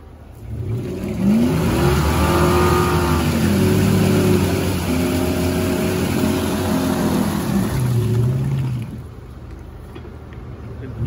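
A GAZ-66 Shishiga truck on 50-series wheels revs its engine off-road in a dry forest. The loud, close engine roar holds and wavers in pitch for about eight seconds before easing back to a lower idle.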